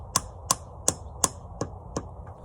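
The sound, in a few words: hammer tapping a sap tap into a tree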